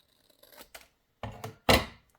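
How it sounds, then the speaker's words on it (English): Scissors cut a mixed media board made from trash in half, giving a few short crisp snips that build to one louder, longer cut, close and alone. "and cut this in half"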